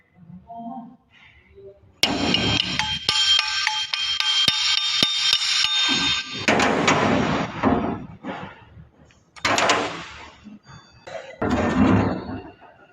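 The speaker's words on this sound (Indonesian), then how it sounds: "Selanjutnya kita akan membuka ini dengan cara dipukul seperti ini, dengan pelan-pelan." Hammer tapping apart the housing of a car alternator in a workshop, a run of rapid metallic knocks with ringing, then heavier separate blows, close and loud.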